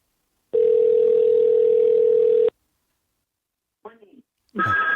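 A telephone ringing tone sounds as one loud, steady electronic note lasting about two seconds on an outgoing call. It falls silent, then a voice briefly answers on the line.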